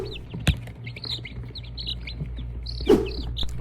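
Broody Silkie hen in a backyard coop with other chickens, giving a couple of sharp, harsh squawking calls amid soft twittering chirps, close and moderately loud.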